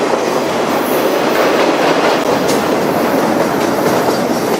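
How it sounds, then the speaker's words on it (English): A freight train loaded with wind turbine blades rolls steadily past on open Wyoming plains, a loud continuous rumble with rail noise and a faint squeal, no voices. "Not every day you see these wind turbine trains."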